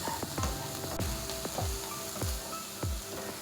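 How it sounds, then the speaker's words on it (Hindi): Pizza cutlet filling with dried mint frying over a medium flame, a close, steady sizzle broken by rapid repeated scraping and stirring strokes, with no talking. "आंच पे हमने है ना तकरीबन 3 मिनट इसे फ्राई करना है जी"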